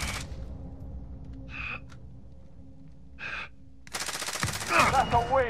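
Gunfire in a battle-royale style video game, bursts of shots crackling in short clusters around the one- and three-second marks, then heavier sustained shooting near the end under an excited voice.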